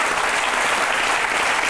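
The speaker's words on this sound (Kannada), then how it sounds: "ದಯವಿಟ್ಟು ನೀವೆಲ್ಲ ಚಪ್ಪಾಳೆ ಹೊಡಿಲೇಬೇಕು." An audience bursts into dense, steady applause at a televised talk-show courtroom event, a loud, continuous wash of many hands clapping with no break.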